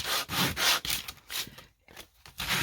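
Coarse 80-grit sandpaper scrapes back and forth over a painted surface being distressed in quick, rough, close strokes, with a brief pause before the rubbing resumes.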